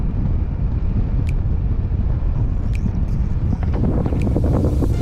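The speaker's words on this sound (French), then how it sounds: "Devinez d'où vient le vent." Strong wind roars across the microphone while bikepacking on a European road trip from Budapest toward Helsinki, a loud continuous rushing buffet with no voices.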